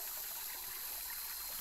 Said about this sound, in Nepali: यो चाहिँ पकुवा खोला है पकुवा भन्छ यसलाई